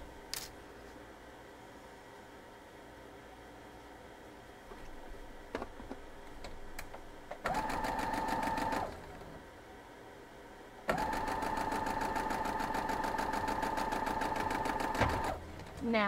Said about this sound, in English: So I'm just gonna sew these along this line.